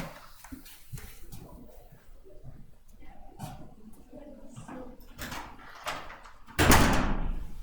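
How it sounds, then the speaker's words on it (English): Doors being closed in a room during a programming lecture, with scattered soft thuds and shuffling building to one loud, close bang near the end. "I'm going to close these doors real quick here, sorry."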